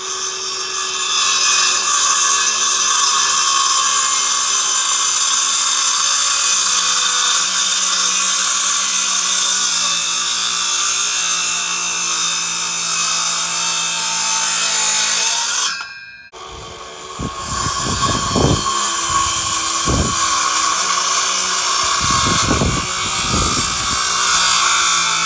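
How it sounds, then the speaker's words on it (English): A circular saw whines loudly through a long continuous cut in pole barn lumber, stops briefly, then spins up again in several short bursts. "I'll take my circular saw, I'll cut on this side"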